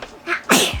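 A single sharp human sneeze, close and loud, with a quick intake of breath before the explosive burst; it is short and stands alone with no talk.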